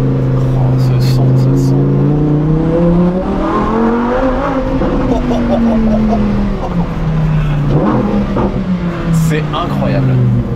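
Lamborghini Huracan STO engine revving while driving, a loud, close, droning roar whose pitch rises and falls as the revs climb and drop, with people talking over it.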